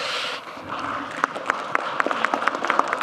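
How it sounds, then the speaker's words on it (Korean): Applause from the audience at a town hall meeting in Ulsan, a soft wash of crowd clapping that thins into sharp, evenly spaced individual claps standing out near the end. "왜 고향 사람이라고 박수 주는 거예요?"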